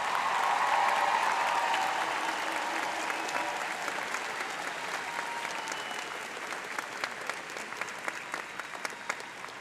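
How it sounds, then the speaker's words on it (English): A graduation audience at a high school ceremony breaks into a dense, continuous round of applause for the graduating class. It is loudest at the start and gradually thins to scattered claps. "Let's have one more round of applause for the class of 2024."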